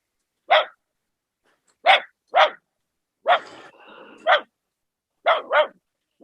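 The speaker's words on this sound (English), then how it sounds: "I just need to soothe my dog" A dog barks in sharp, separate bursts, about seven barks spread unevenly over a few seconds, close by, with a brief stretch of low background noise between them and no talking.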